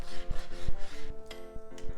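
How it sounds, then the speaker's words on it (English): A knife cuts chicken into bite-sized pieces on a wooden cutting board for Korean spicy chicken. A close series of about six dull knocks against the wood, mixed with soft scraping and rubbing, with no talking. "Then I'm going to cut this into bite-sized pieces"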